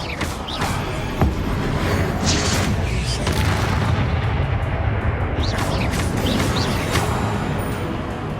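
Fiery Confringo blasts and other spellcasting in the Hogwarts Legacy video game form a loud, dense wall of booming explosions and rumbling impacts that continues without a break, with game effects layered over it.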